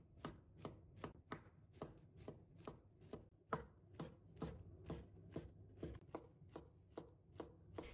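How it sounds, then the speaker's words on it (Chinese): A kitchen knife chops two shiitake mushrooms into small dice on a cutting board, with steady, evenly spaced knocks about twice a second, close and crisp, and no voices. "接下来准备2个香菇，把它切成片， 再切成小粒。"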